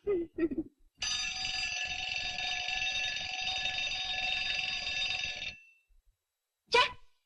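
A continuous electric alarm clock bell rings steadily for several seconds, loud and close, with short bursts of Tamil speech just before and after it.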